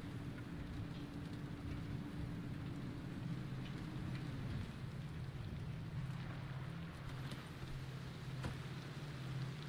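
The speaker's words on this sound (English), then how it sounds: "Look how much water, how much electric we get from the rain." Rain falls steadily in the video game Pacific Drive, a soft, constant wash of drops with a low droning hum underneath, with no talking.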